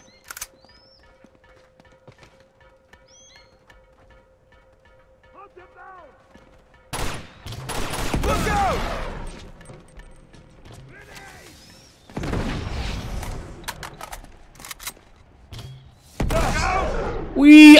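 Shotgun fire in the video game Uncharted 2, with quiet stretches broken by several loud, sustained bursts of gunfire and mechanical clatter, close and dominant, with occasional small sounds between the bursts.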